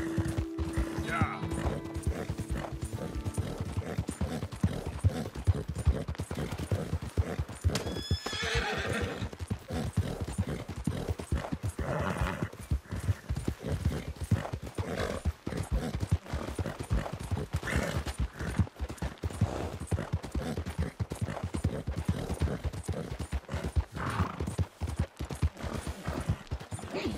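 Hooves clip-clop steadily from a galloping horse in Red Dead Redemption 2, with a whinny partway through, under gameplay sounds and ongoing talk.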